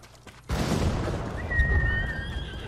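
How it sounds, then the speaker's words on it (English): A horse neighs loudly and close in the Ghost of Tsushima video game. The whinny bursts in suddenly, followed by hoof clip-clops and a long, bright, fading cry. "Horse!"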